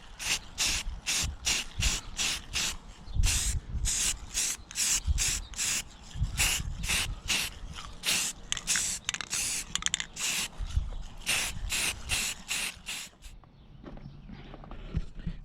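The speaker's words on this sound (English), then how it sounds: "I'm going to go ahead and spray the grills too" Spray can hissing onto faded car speaker grills on a 2000 Lincoln Town Car, close and loud in a rapid run of short bursts with brief gaps, the hissing stopping near the end.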